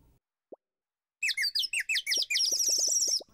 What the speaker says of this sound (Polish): Ptak śpiewa.